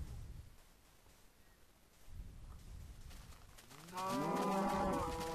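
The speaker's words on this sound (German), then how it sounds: "Morgen Kühe." Cows moo in the video game Minecraft, a couple of loud drawn-out lowing calls arriving near the end after quieter rustling ambience.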